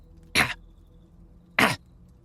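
Two short, rough coughs spaced more than a second apart, performed by a voice actor for an injured chinchilla soldier lying on guard amid ruins and clutching a shoulder, close and dry with no other talk.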